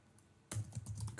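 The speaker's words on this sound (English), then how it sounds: "And I can start typing here." Quick typing on a computer keyboard, a burst of close, crisp key clicks that starts abruptly after a brief quiet moment, with no talk.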